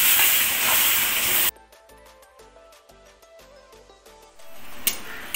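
Masala spices fry in a pan for a Bengali aar fish curry, giving a loud, steady hissing sizzle for about a second and a half before it cuts off and music takes over.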